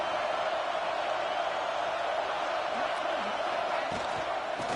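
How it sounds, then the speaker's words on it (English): A stadium crowd roars without pause during a college football video game between Florida State and Florida, loud and dense with cheering and whooping. "This crowd unhinged, trying to make sure the Gators don't back down on third down."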